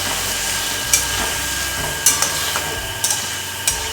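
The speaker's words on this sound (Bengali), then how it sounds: "এবার এইগুলো দিয়ে দিচ্ছি এর মধ্যে অল্প একটু নাড়াচাড়া করে নেব" Marinated paneer with ground cloves and cumin stirred in a pan alongside capsicum and tomato: a steady hiss of cooking broken by five or so sharp utensil clicks and scrapes, with no voices.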